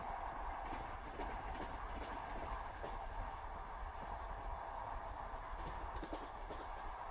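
A night train running on a winter journey: a soft, steady rumble and hum of the carriage with faint rhythmic clickety-clack, even and unbroken throughout.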